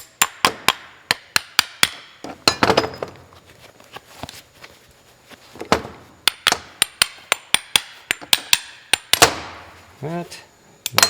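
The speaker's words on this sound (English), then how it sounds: "Take a trusty little hammer here, knock the bolts out." Hammer knocking bolts out of a mold for a poured babbitt Model T Ford connecting rod, a string of sharp metallic taps and knocks in irregular bursts, close and loud, with brief pauses between groups.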